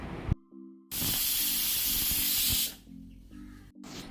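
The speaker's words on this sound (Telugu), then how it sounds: "3 విజిల్స్ వచ్చే వరకు విజిల్స్ వేయించాలి." A pressure cooker of cucumber dal (dosakaya pappu) lets out one loud, steady hiss of escaping steam through its whistle for about two seconds. Quieter kitchen sounds come before and after the burst.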